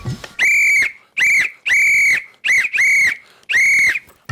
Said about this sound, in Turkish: Her zaman yanında taşıdığım düdüğü ağzıma koyuyorum.